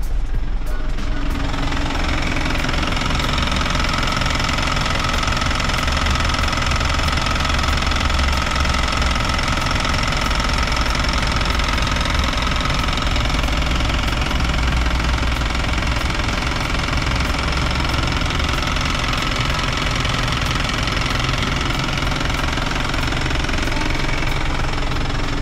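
A diesel engine of an Isuzu NMR truck runs loudly and steadily up close, a rough, clattering drone with a deep rumble that holds for the whole stretch.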